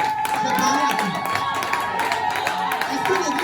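A church congregation cheers and shouts acclaim for Jesus, a sustained loud crowd roar with clapping and whoops, a voice speaking over it.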